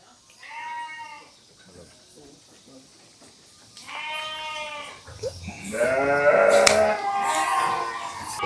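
Sheep bleat close by during shearing, with three wavering calls that get louder and longer toward the end, and a voice talks between them.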